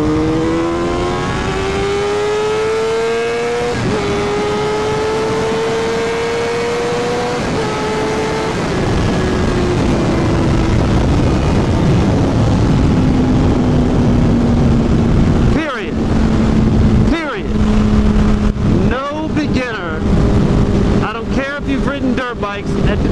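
A 600cc sport motorcycle accelerates hard, its engine note climbing and shifting through gears in long rising sweeps, loud and close under heavy wind rush, with a rider's voice talking over the later part.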